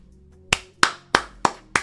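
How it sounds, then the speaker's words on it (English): Five sharp, evenly spaced claps ring out close and clear against a faint low hum, a small group applauding a community helping out during a fantasy football mock draft session. "give yourselves a round of applause here"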